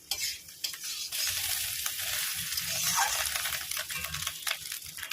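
A spatula stirs fish roe bhujia with crushed garlic and chilli in a frying pan. Scraping strokes repeat over a continuous bright sizzle, close and clear, with no voices.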